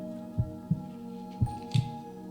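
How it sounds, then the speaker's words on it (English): A pounding heartbeat sound effect in the video game Witch on the Holy Night, deep thudding double beats repeating under a steady low hum, close and heavy. "All he could hear was his own pounding heartbeat."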